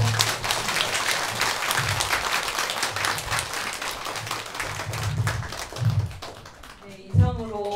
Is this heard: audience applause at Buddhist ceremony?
yes